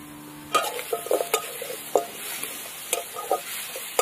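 A spoon stirs grated coconut with melting palm jaggery in a hot pan while making Bengali pumpkin pitha. Soft scrapes and clinks against the pan come irregularly over a faint sizzle, close and fairly quiet.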